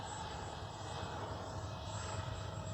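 A Freewing 80mm F-22 Raptor RC jet flies past with a steady, fairly faint ducted-fan roar and whine, holding an even level throughout.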